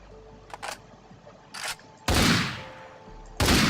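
FN SCAR rifle from the Flans Mod guns add-on for Minecraft firing loud, close bursts, with a few shorter sharp shots leading into two long, heavy volleys of rapid fire.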